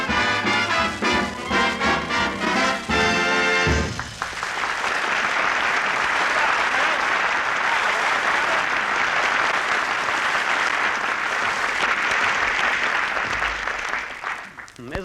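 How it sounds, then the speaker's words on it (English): A studio audience claps after a swing number on an old record, starting under the fading song and its voices, then swelling into sustained dense applause that carries on loudly for about ten seconds before tapering off. "He even puts applause on the record."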